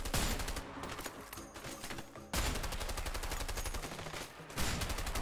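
Rapid, dense gunfire in the video game A Way Out, with bursts of shots fired back to back and only brief lulls.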